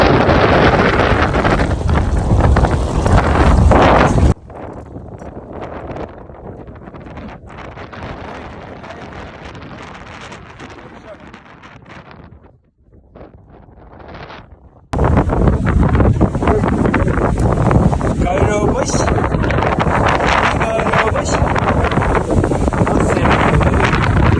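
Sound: strong wind

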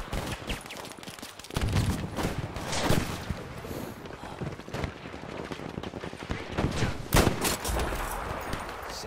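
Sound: sniper rifle shots in video game Battlefield 5

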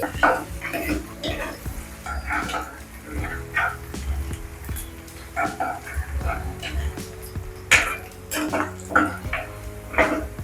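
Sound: onions frying in oil in a pan

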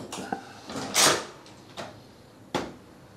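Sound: hotel room door being opened and closed

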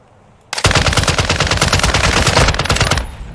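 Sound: RAAL machine gun firing in Call of Duty DMZ video game

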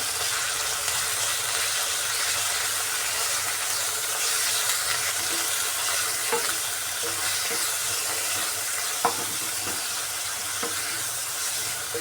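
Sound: frying mint and coriander for ginger chutney

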